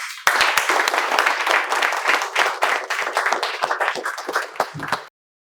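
A group of people claps in dense, continuous applause that starts abruptly and keeps going steadily before it cuts off suddenly.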